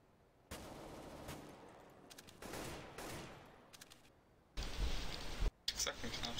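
Rapid gunfire in the video game CS:GO comes in several separate bursts of varying length, some louder and closer near the end, with a player talking between shots.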